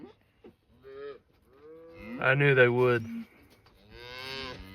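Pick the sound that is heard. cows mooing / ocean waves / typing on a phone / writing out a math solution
cows mooing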